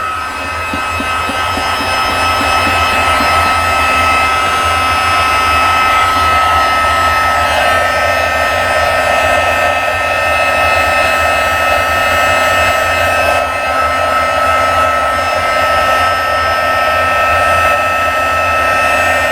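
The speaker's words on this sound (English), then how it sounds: "So I'm going to take my heat tool out. I'm going to let it heat up for just a few minutes" A heat tool for heat embossing on paper blows continuously, a loud, steady whooshing roar with a faint whine that barely changes over nearly twenty seconds, with no voices.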